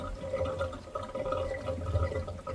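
Water gurgles back into a pool through a diverter valve with air in the system, a soft continuous bubbling with low, uneven swells and no talk.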